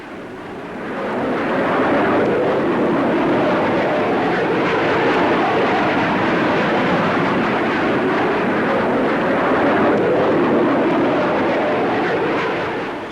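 A de Havilland Comet jet airliner with four Rolls-Royce Avon jets roars past at an air show, a loud, steady broadband rush that swells in over the first two seconds, holds, then tails off slightly at the end.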